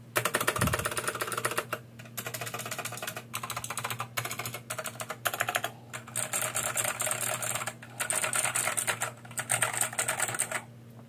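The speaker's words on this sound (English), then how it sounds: "quick sound test" Rapid clicky typing on a K3 Shimmer 95% hot-swappable mechanical keyboard with blue switches, dense bursts of sharp key clicks broken by short pauses, close and alone.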